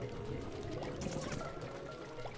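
Water gushes out of a crystal in the video game Pikmin 3 Deluxe, a steady, faint rushing pour that runs unbroken beneath a low background din.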